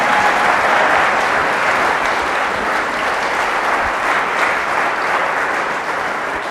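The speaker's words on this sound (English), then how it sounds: "Please give a round of applause for Catherine Austin Fitts" Sustained applause from a conference audience in San Mateo, a dense, steady clatter of many hands filling the room for the full length without letup.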